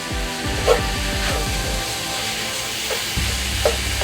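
Hamburger Helper four cheese lasagna mix from a twin box is stirred in a sizzling pan, steady scraping and frying noise with a few clinks of the utensil against the cookware.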